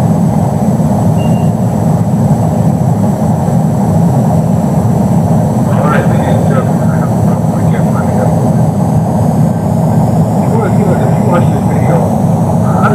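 Airplane near an airport, a loud continuous engine roar that dominates throughout, with faint voices occasionally audible underneath.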